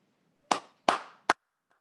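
Three sharp, separate hand claps ring out close by in a quiet room, the second coming quickly after the first and the third shorter, with a faint tail afterward.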